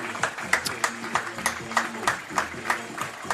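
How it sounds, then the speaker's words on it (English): A stadium crowd at an NCAA tournament college baseball game applauds and stands for a player, with steady, rhythmic clapping spread across the stands and bursts of louder claps roughly every third of a second. "People all around the stadium standing and giving him applause"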